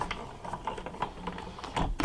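A hand-cranked die-cutting machine feeding a paper card sandwiched between cutting plates, giving a quiet, steady series of mechanical clicks and ratcheting rolls over about two seconds, with no voices.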